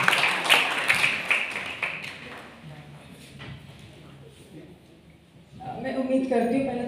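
Audience applause at a Women's Day event, a burst of clapping that fades over a few seconds beneath a host's voice, with speech continuing afterwards.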